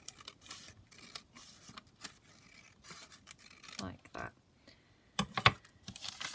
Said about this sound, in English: And then I'll just trim the other edge like that.